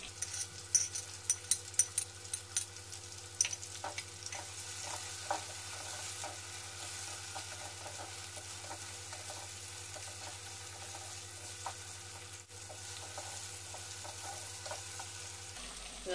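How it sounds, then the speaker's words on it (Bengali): Chopped ginger and green chilli fry in a hot pan, a steady close sizzle with a few light scraping stirs early on and no talking. "আদা কুচিটা দিয়ে দিচ্ছি, আর কাঁচা লঙ্কা কুচিটাও দিয়ে দিচ্ছি।"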